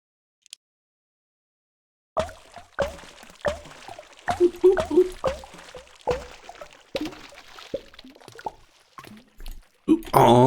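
Chunks of a Townscaper building dropping off into water, many soft plops and squishy drips at an irregular rhythm with gentle watery splashes, rising to a louder splash at the end.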